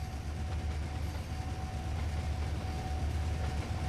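A freight train in the Trainz 2022 railway game rolls steadily along the rails, with a continuous low rumble and a faint sustained tone, and no one speaks over it.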